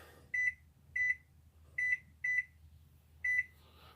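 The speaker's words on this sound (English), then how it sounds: "Okay, let me set my timer." An oven timer gives five short double beeps at uneven intervals while being set in a kitchen, clear and fairly close against a faint low background hum.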